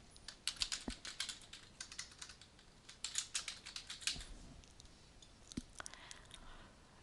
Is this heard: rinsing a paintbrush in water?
no